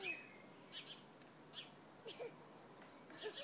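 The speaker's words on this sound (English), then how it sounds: "Look at all the birds." Wild birds at a feeding spot give scattered soft chirps and short calls at a distance, faint over quiet background noise.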